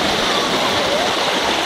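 River water flowing steadily, a loud continuous rushing wash like a small rapid or cascade, unbroken for the whole stretch with no clear voices on top.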